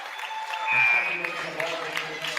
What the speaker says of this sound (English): John Tupola gets a big round of applause as he leaves